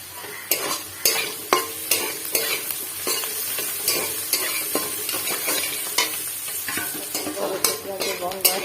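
Sliced onions and crushed garlic frying in a pan, a loud, close sizzle punctuated by regular scraping strokes of a spoon stirring roughly every half second, with no talking.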